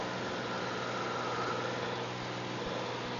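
A Cessna 182 engine at full takeoff power, a steady loud droning roar filling the cabin without letup, with no voices over it.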